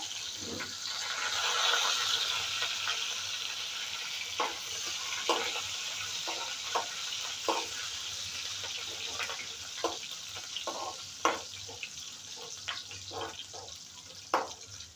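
Garlic, green chili and curry leaves frying in oil in a pan, a steady soft sizzle with scattered sharp crackles and pops spread across the whole stretch, no voices.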